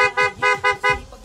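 A stock car horn honks four times in quick, evenly spaced beeps, loud and close, with no one speaking.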